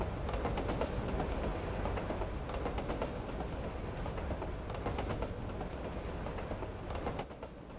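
Two trains run side by side in the video game Gravity Rush Remastered, a loud, continuous rolling rumble with rapid clicking wheel beats that holds steady, then thins slightly at the end.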